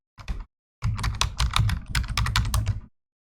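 Typing on a computer keyboard while entering a date filter in Excel: a short burst of keystrokes, a brief pause, then a steady run of close, crisp clicks with no talking.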